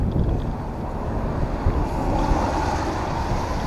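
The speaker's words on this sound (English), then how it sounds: "Oh, it's so windy." Strong wind gusts rush and roar past on a boat tour of Windermere. It is a steady, heavy, close blowing sound, like wind buffeting a microphone, with no talk.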